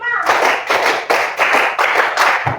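A class of primary schoolchildren claps in a counted pattern, five strong group claps spaced about half a second apart, close and loud, ending with a softer tap.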